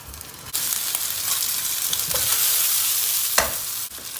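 Meatballs for a Turkish pot köfte dish sizzle steadily in a hot pan, with a few clinks and stirring bumps over the constant frying hiss.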